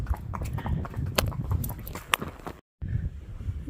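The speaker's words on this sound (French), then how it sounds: "Trop chou ce petit poney." A falabella pony walking outdoors, its hooves giving quick irregular clip-clop taps against a rough background of wind and movement, ending in a brief dropout.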